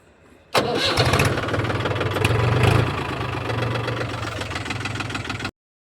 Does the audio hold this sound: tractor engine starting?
yes